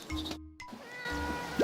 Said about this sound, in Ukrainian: Привіт, кошеня.